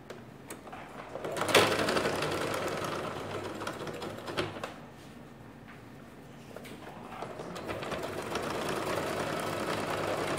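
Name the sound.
sewing machine sewing hem of children's cargo shorts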